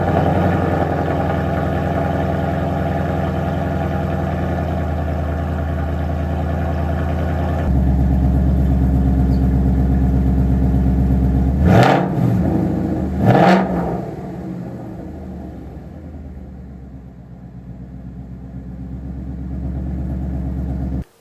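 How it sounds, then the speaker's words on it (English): A Ford Mustang engine idles steadily after restarting, then settles into a louder, deeper idle before two sharp revs climb and fall back, easing to a quieter idle that swells again near the end, with no voices. "I'll throw a clip in there now so you can hear what it sounded like."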